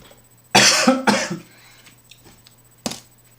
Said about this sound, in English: I'm choking on that fucking celery.